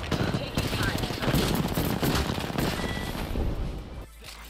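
Dense, rapid gunfire in a battle royale shooter game, a loud and steady barrage of shots with a game voice speaking over the fighting.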